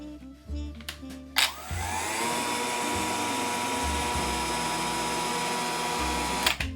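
Kraissmann 3502 AKS-BL cordless battery chainsaw spins up smoothly after a few clicks and runs with a steady, fairly quiet motor whine close by, then cuts off near the end.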